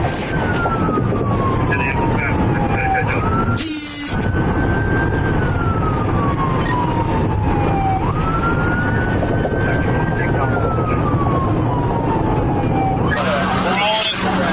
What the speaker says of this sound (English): While Sergeant Ramsden helps escort the ambulance